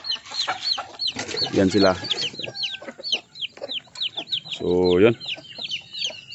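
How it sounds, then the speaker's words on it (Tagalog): Native chickens, a Plymouth Barred Rock crossbreed with a broodcock and chicks in a small yard, cluck and call repeatedly at close range, with a louder rooster-like burst, while someone talks briefly. "Ito po yung mga native chicken, no? Crossbreed ng Plymouth Barred-Rock."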